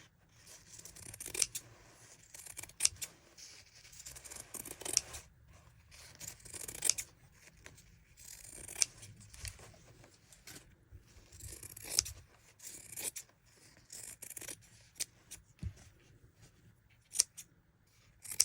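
Scissors snip embroidery threads in a series of quiet, irregular cuts close by, with soft rustling of fabric and thread between the snips.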